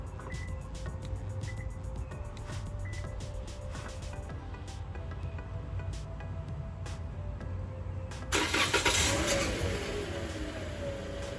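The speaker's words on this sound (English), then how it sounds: "the car should start." A 2017 Toyota Corolla fires up by remote start: after a steady background hum and a series of sharp periodic clicks, the engine catches with a sudden louder, broad rumble that continues.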